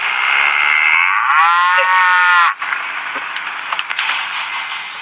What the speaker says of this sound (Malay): Horn dia suara lembu.